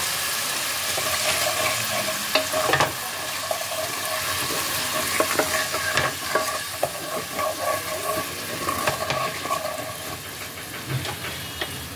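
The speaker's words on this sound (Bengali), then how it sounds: "এটাকে ভালো করে ফুটিয়ে নিতে হবে।" A tomato and milk mixture thinned with water sizzles and bubbles in a pan on the stove. The steady, close frying hiss is dotted with small pops and faint stirring knocks throughout.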